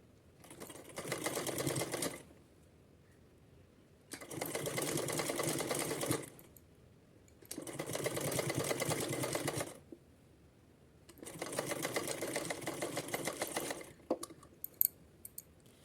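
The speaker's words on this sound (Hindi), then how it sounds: "तो चलिए यहाँ से सिलाई लगाते हैं।" A sewing machine stitches lace onto a fabric frill for a small deity outfit, running in four steady bursts of about two seconds each with quiet pauses between, close and alone.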